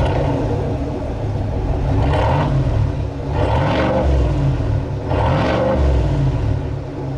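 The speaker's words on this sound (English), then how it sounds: "it does sound cool with the big V8" Big V8 in a 2022 Chevy Silverado ZR2 pickup revving up in repeated surges, a loud, close, deep rumble rising and falling about three times with no talking.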